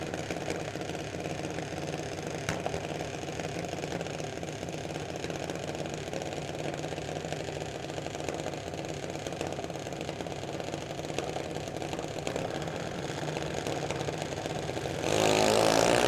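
A drag racing car engine idles steadily at trackside during an idle adjustment, a continuous mid-pitched rumble that swells slightly louder near the end.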